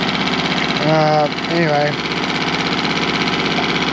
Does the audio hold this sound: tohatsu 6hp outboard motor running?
yes